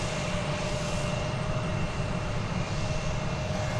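A United Airbus A320 jet at DFW airport gives off a steady, broad engine roar at an even level throughout, with no talking over it.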